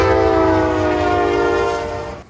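A CSX ES44DC locomotive sounds its K5LA horn in one loud, close, sustained multi-chime blast that holds steady and then cuts off.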